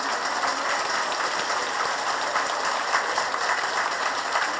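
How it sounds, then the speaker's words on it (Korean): Sustained applause from a church retreat audience at a Catholic spiritual lecture, a dense steady clatter of many hands with no pauses, fairly loud and filling the room. "박수는 칠려면 확실히 치고."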